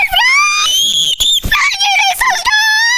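A person screams loudly and shrilly up close in bursts of high wavering cries during a Minecraft game, with brief breaks between them.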